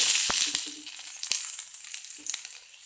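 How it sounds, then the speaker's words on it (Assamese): Onions sizzle in hot oil, a loud hiss that fades gradually, dotted with sharp pops and a few utensil clicks, close and free of talk. "এয়া তেলখিনি গৰম হৈ গৈছে। এতিয়া দিম পিয়াজখিনি"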